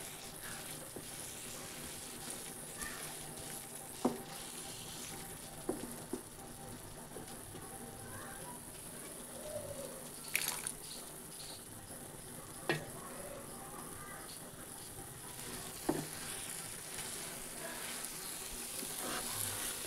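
Chicken with pumpkin frying in a pan over low to medium flame, a faint steady sizzle with occasional soft stirring clinks and scrapes, close but quiet.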